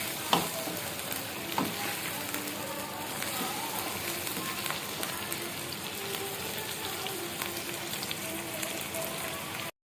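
Chicken pieces fry in hot oil in a pan for palak gosht, sizzling steadily and crackling while a utensil stirs and scrapes now and then, close and continuous with no talking.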